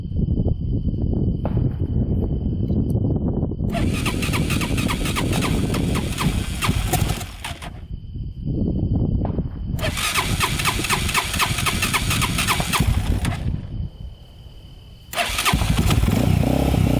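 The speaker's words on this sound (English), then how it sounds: "Quick start her up with the choke on," A Honda 400ex quad cranks and fires with the choke on, sputtering into a loud, rough idle that cuts out and restarts several times, close by with no voices.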